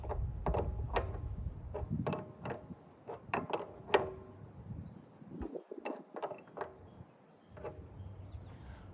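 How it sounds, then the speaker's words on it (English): A crescent wrench tightens a large water valve on a chicken water storage setup, giving a close series of sharp metallic clicks and scrapes in irregular bursts, with faint handling noises between them and no talking. "Also happen to have a crescent wrench to finish tightening up that valve."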